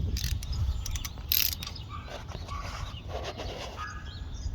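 Ratchet wrench clicking while tightening a spark plug on a Ferris 52 walk-behind mower with a 26 HP Briggs and Stratton engine, a series of close, crisp ratcheting clicks with a brief louder burst near the start.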